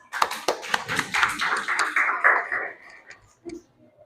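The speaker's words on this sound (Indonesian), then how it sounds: "Tepuk tangan untuk kelompok 4." A few sharp, scattered claps from a classroom group acknowledging a student presentation group, close and distinct at first, then thinning out into sparse taps and a faint murmur.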